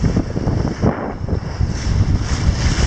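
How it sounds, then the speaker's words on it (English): Strong wind buffets a sailboat at sea in the Bass Strait, a loud, steady roar with rumbling gusts against the microphone and no clear voices. "a bit of wind is a fantastic thing"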